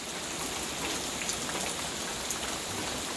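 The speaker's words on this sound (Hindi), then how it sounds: "इतना बारिश हो रहा है, रास्ता में पानी भर गया हुआ।" Heavy rain pours steadily, a dense, even hiss of drops on surfaces with no voices and no pauses.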